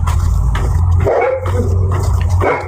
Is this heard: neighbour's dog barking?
yes